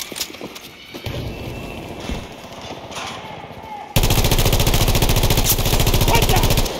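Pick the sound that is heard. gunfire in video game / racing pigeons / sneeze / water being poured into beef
gunfire in video game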